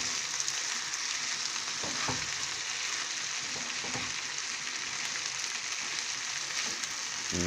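Rice and vegetables frying in a hot pan, an even, continuous sizzle with a couple of faint stirring knocks, moderately quiet and with no voices.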